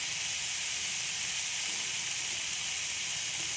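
Mixed vegetables sizzle and hiss steadily as they sauté together in a hot pan, a close, continuous frying sound with no talking.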